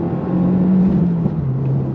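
A 2024 Subaru WRX sport sedan accelerating on throttle, its engine a close, steady low hum from the cabin whose pitch shifts slightly as it pulls, with no talking.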